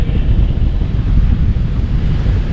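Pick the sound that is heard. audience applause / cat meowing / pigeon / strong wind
strong wind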